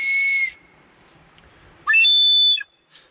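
Two shrill whistle blasts, each about half a second long, with a short quiet gap between them and a faint chirp at the end.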